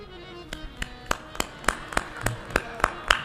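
A man at a Ram Katha gathering demonstrates hand clapping: about a dozen sharp, evenly spaced claps in a steady rhythm, close and clear with no talking over them.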